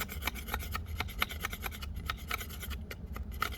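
An Ontario RAT knife carves shavings from wood in quick repeated rasping strokes, a steady close scraping with short bright scratches recurring several times a second, fairly quiet.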